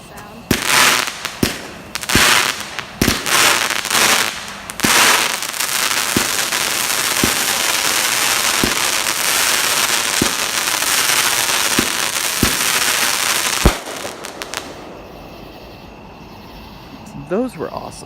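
Late-night fireworks at a backyard BBQ: a rapid string of loud crackling bursts and sharp bangs at first, then spaced booms every second or two over a continuous crackle, fading to quiet near the end; voices are heard.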